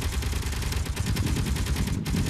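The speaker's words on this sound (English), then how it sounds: "My guns are shooting." Guns on a ship or station in the game Space Engineers fire continuously, a dense, loud, rapid stream of shots with no pause and no talk.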